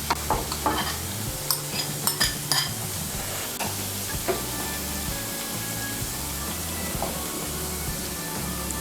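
Fried eggplant pieces go into a simmering hilsa fish curry in a pan, with clattering spoon stirs and knocks over a steady bubbling sizzle, loud and close.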